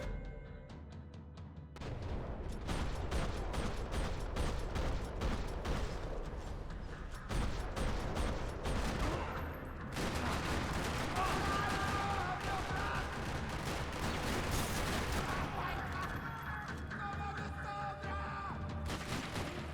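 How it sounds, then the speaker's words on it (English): Heavy gunfire in a parking lot in the video game Max Payne 3 (Xbox 360): a loud, sustained barrage of rapid shots and automatic bursts lasting nearly twenty seconds, with shouting voices mixed in. "Another parking lot rattling with gunfire."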